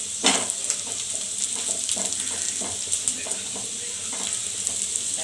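Onions browning in a hot pan for a boiled egg bhaji, a steady bright sizzle with soft scraping stirs breaking through now and then, close and continuous with no talking.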